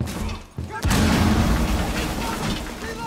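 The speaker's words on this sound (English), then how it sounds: "Shit, grenade." A grenade goes off in Rainbow Six Siege: a sudden loud boom after a brief drop in sound, followed by a sustained rumbling roar with crackling debris, while a voice talks faintly in the background.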